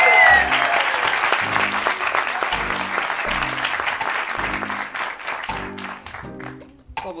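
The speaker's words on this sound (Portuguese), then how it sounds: "recebam com um forte aplauso o meu primeiro convidado desta noite" A stand-up comedy audience applauds and cheers to welcome comedian Hugo Soares, a loud, dense wash of clapping with a steady rhythmic thumping beat of walk-on music underneath, tapering slightly near the end.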